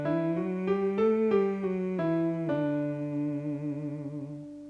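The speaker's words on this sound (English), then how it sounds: "To make that sound, say sing and hold the NG at the end." A singer hums a sustained NG sound for a vocal exercise, moving through a few held pitches that step up and back down, then settling on one long wavering tone that fades at the end.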